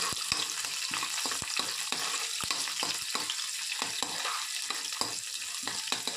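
Green chillies and onions fry quietly in a pan for semiya upma, a soft continuous sizzle broken by frequent sharp spoon taps and scrapes as they are stirred.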